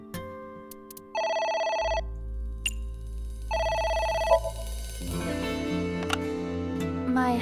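A telephone rings in the video game AI: The Somnium Files, two electronic bursts of trilling rings over a low game-music background that then shifts to a new tune.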